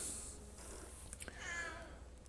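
A house cat meows faintly in the background, a short rising cry after a soft rustle, quiet and distant over low room hum.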